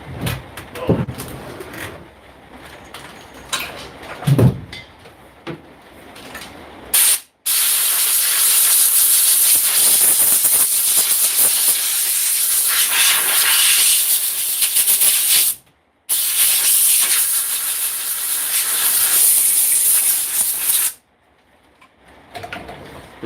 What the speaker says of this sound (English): Like I say, I got a new compressor.